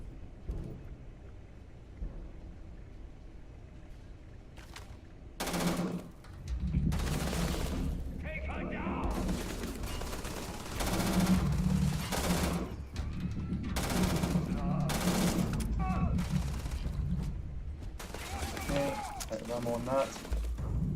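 Gunfire from the Starfield space role-playing game, with repeated bursts and sharp shots scattered across about twenty seconds, mixed with a player talking and in-game character voices.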